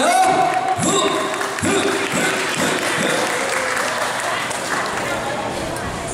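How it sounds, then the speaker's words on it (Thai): An audience at a school teachers' stage show gives loud applause that starts strong and gradually thins, with a few sharp thuds early on and voices underneath. "ขอเสียงปรบมือดังๆหน่อยนะครับ"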